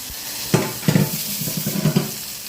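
Cumin and chili tempering in hot oil for Gujarati dabka kadhi: a bright, steady sizzle with a burst of sputtering pops and quick stirring clatter, close and fairly loud, with no speech.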